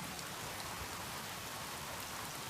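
Steady, dense rain falls without a break on a high plateau, a uniform hiss of drops hitting the surface with no voices.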